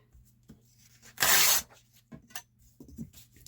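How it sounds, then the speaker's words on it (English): Paper tears along a ruler for a handmade journal, one loud, quick rip lasting under half a second, set among softer handling rustles and taps over a low steady hum. "So I'm going to go about here and rip that."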